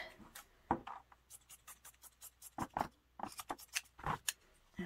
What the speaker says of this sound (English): now I'm just going to cut it right above this sleeve button